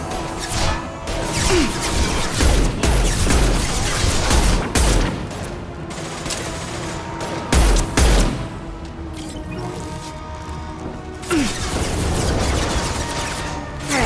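Video game gunfire: repeated heavy bursts and crashing shots in sustained volleys, loud and close, with brief lulls between the barrages.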